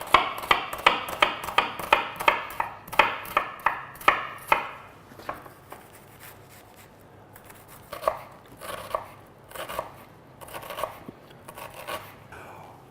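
A knife chops onion into a fine dice on a board for a Beef Wellington side, a fast run of sharp, evenly spaced taps, then a pause and a second, looser burst of chopping, close and alone.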